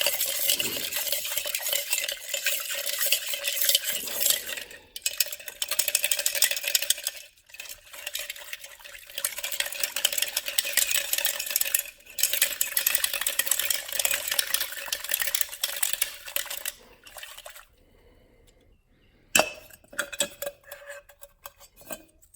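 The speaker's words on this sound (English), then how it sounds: "So I'm gonna dump them in some gasoline here, just rinse them out a little bit." Steel bearings are rinsed in gasoline, sloshing and clinking as they're swirled in a container; repeated metallic rattling bursts with brief pauses, fairly faint and close, with no voices.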